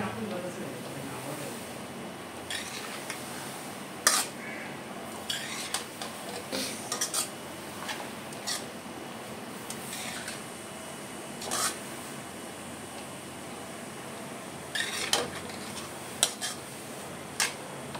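A spoon stirs fenugreek (methi) bhaji with fresh grated coconut in a pan, giving sparse, soft scrapes and clinks at irregular moments beneath a person talking.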